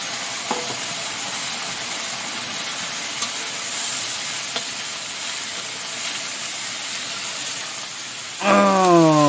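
Intestines fry in a pan with a steady, loud sizzle and hiss throughout, occasional light clinks of stirring, and a kettle-like whistle rising at the end.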